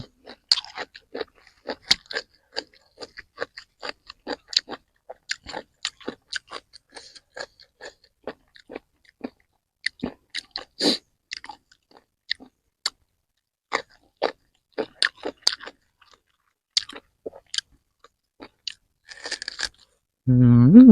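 Crispy deep-fried pork ribs being chewed close to the mic, with repeated sharp crunches and bites in an irregular rhythm over near silence, ending with a brief voice.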